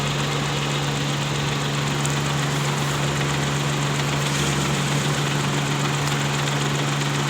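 A Suzuki car engine idles steadily with a constant low hum and a faint rattle while the alternator's charging voltage to the battery is checked; the sound is even and unbroken, with no speech.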